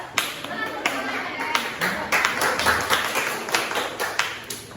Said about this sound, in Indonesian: Tepuk tangan untuk kelompoknya ada.